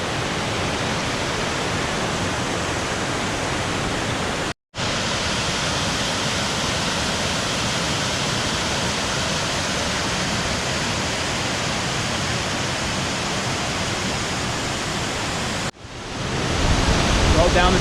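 Tres Cascadas waterfall near Villa de Leyva, Colombia, roars as a dense, constant wash of falling water, loud and close, broken only by two split-second cuts.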